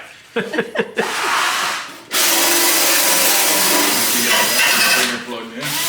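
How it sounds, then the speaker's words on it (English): A power floor polisher running on a floor in a garage workshop, a loud steady whirring hum after a few short bursts as it starts, close and continuous, with the motor easing down near the end. "Just polishing this floor up."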